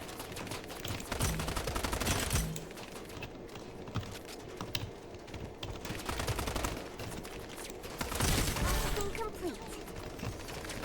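Rapid bursts of gunfire in the game Strinova crackle repeatedly over a busy, cluttered mix, with people talking excitedly throughout.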